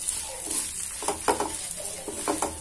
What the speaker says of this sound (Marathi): छान हे भाजून घेत आहे